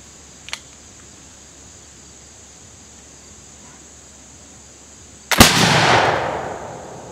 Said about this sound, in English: we're going to try to take out that 35-yard clay bird with a load built with 2 ounces of shot, 100 grains of powder